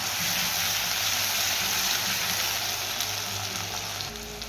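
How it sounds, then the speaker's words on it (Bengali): Tomato and onion frying in a pan for a Bengali rui posto dish, a steady close sizzle with soft stirring throughout and a faint low hum near the end. "টমেটোটা পেঁয়াজটা ভালো করে একটু হালকা হালকা করে ভেজে, লাল লাল করে ভেজে নিতে হবে"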